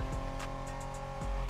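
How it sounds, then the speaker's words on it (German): A car drifting in the racing game The Crew Motorfest: a sustained engine drone and whine with tire squeal as the car slides through a corner, loud and close with no voices. "Ja, der Drift ist mir fast gelungen."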